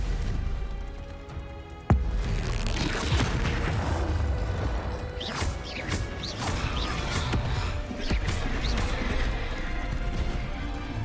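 Confringo blasting spells in a Harry Potter video game set off repeated explosive bursts and crashes with a sharp opening bang, followed by dense rumbling blasts and debris clatter throughout.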